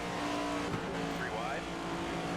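A race car spins out in NASCAR 25, a steady engine drone with a brief tire squeal and skid midway, and a voice talks over it.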